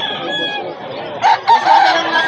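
A sweater-bloodline gamecock crows in a long, loud, close call, followed by a few shorter sharp bursts, amid a rooster sale.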